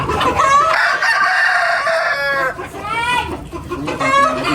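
A rooster crows loudly nearby in long, drawn-out calls, with clucking chickens around it and no talking.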